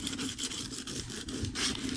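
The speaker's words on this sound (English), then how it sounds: "my next step is I'm just going to take little sandpaper and just rough it up a little bit all the way around." Sandpaper roughing up the surface of a glass plate, a steady close scratchy rubbing with repeated back-and-forth strokes and no voices.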